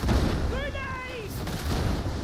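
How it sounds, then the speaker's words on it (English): Heavy gunfire and explosions roar in the video game Darktide, loud and dense, with a voice speaking briefly over the noise partway through. "Grenade!"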